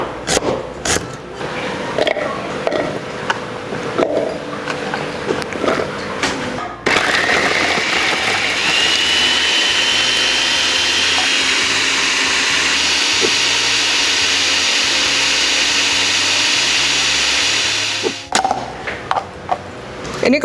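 An electric blender grinds rendang spice paste with coconut oil, a loud steady whirring roar for about eleven seconds, preceded and followed by kitchen clatter and handling sounds.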